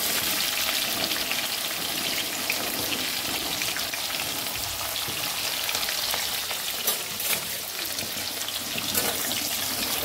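Onions frying in hot oil with cloves, pepper, bay leaf, shahjeera and cinnamon for egg biryani, a loud, dense, steady sizzle with faint stirring clicks, close and uninterrupted.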